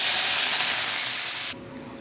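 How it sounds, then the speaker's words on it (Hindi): Loud, bright hiss of potatoes frying in plenty of oil in a kadai for dhaba-style aloo gobhi, steady then dropping sharply to a softer bubbling sizzle. "इसमें मुझे आलू डाल देने हैं और आलू को अच्छे से फ्राई करना है गुलाबी"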